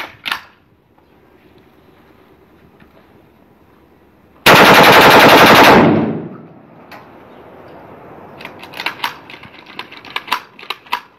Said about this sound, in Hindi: ये कुप्पा पूरा का पूरा सिंगल ब्रश में निकल गया।